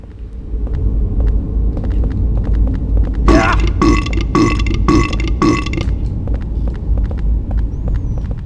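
Monsters in the Silent Hill 4 hospital world let out a run of loud, guttural burps, five or six in quick succession over a steady low rumble of game ambience.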